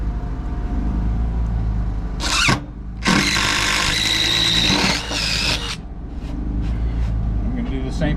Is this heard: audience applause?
no